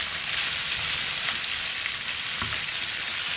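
Diced tomatoes hit a hot pan with a continuous close, bright sizzle and a brief stirring scrape near the end, no talking.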